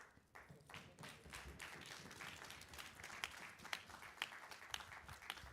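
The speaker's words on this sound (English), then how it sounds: "All right, keep the applause going." Scattered clapping from an audience at a school retirement and long service awards banquet, a loose patter of individual hands with sharp claps standing out, steady throughout and moderately distant.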